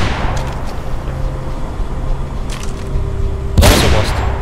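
Gunfire in the Mirror's Edge video game: a steady rumble of game noise under a sharp, loud burst of shots near the end.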